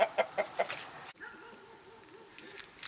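A hen being put into a coop clucks in a quick series of close, rhythmic calls, followed by quieter softer clucking and faint background sounds.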